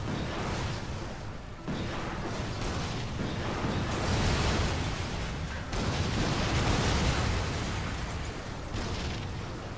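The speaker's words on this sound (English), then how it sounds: "Suffer that explosion." Explosions in the video game Darksiders 2, a dense run of loud booming blasts and rumbling bursts with whooshing debris, rising and falling in waves throughout with no talk.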